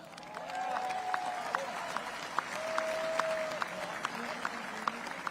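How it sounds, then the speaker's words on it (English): Sparse, scattered clapping from an audience at a celebration in Brussels, Belgium marking 250 years of independence, fairly faint and distant, with a soft high tone sounding over it. "they deserve a round of applause"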